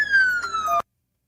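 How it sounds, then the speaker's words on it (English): Police car sirens sound in played-back footage of a confrontation with an armed man, a single descending wail, loud and close, cutting off abruptly after under a second. "He hears their sirens."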